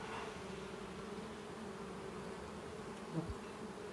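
A mass of honeybees hums steadily as a colony is shaken out and split between hives, a close, even drone throughout with one brief louder knock near the end.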